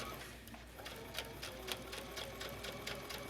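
A sewing machine runs steadily as it stitches a hidden zipper, its needle driving down into the groove of the zipper teeth, giving a continuous close mechanical hum with faint rapid ticking and no talking.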